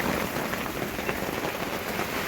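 Heavy rain drums steadily on a camping tarp during a thunderstorm at a lakeside family campsite by a reservoir, a dense, continuous hiss with no pauses and no voices.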